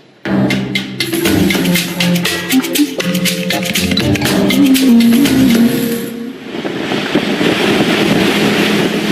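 A boat runs along the coast of Ubatuba, Brazil, its steady engine drone mixed with heavy wind buffeting and rushing water, staying loud and continuous throughout with no talking.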